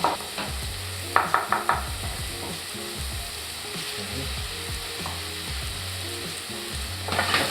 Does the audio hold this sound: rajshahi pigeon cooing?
no